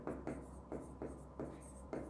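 A formula being written on a board during a physics lesson: about six short, faint scratchy strokes in an uneven rhythm, close by and with no talking over them.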